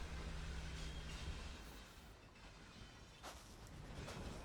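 A train running on a track in the railway-building game Constracktion, a faint steady low rumble with a soft rolling hum throughout, no voices.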